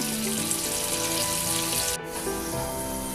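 Yam pieces frying in oil over a low flame give a steady, close, broadband sizzle that runs throughout, with a faint tonal hum beneath and a brief dropout near the middle.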